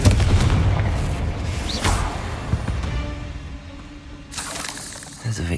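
A Confringo fire-blast spell erupts in Hogwarts Legacy combat, a booming explosion layered over game music and other spell effects, with a voice calling out briefly near the end.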